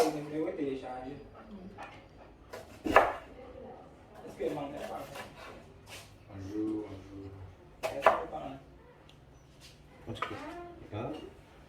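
Onions cut with a knife on a board for a boeuf bourguignon, a few distinct chopping knocks spaced irregularly under close, ongoing talk.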